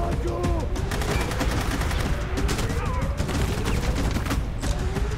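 Dense, continuous gunfire from the Rogue Warrior video game. Rapid automatic bursts and overlapping shots ring loud and close for the whole clip, with a voice faintly beneath.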